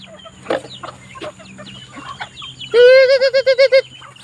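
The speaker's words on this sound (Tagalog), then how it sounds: "magpapakain naman tayo ng ating mga alagang manok, pabo, pato, itik" Assorted chickens, turkeys and ducks cluck and chatter nearby while being fed on a small backyard farm, then a turkey lets out a loud, rapid rattling gobble.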